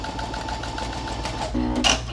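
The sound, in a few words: sewing machine stitching a long straight basting stitch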